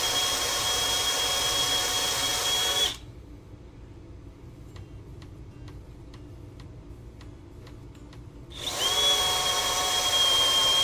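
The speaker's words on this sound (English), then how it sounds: "Hard to drill cast iron?" A power drill boring into cast iron whines steadily, cuts out for several seconds leaving faint ticking clicks, then spins back up loudly.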